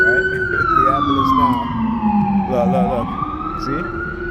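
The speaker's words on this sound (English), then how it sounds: "It's the ambulance now." An ambulance siren wails past, its loud tone sweeping down and back up in pitch over a steady hum of road traffic.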